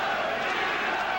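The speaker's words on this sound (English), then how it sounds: "Chant of the crowd for Vito." Boxing arena crowd at the Marvin Hagler vs Vito Antuofermo fight chanting for Antuofermo, a dense, steady roar of many voices filling the hall without pause.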